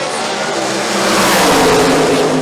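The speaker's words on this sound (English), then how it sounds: "Machine ready to go down that left side of the racetrack" Drag cars launch side by side down a dragstrip at a Conquerors Of Chaos event at Maryland International Dragway, a loud broadband engine roar that swells steadily over a couple of seconds.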